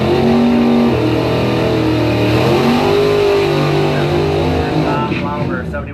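A 1971 Camaro drag racing roars loud and close, its engine tone climbing through gear changes over about six seconds while a commentator talks over it.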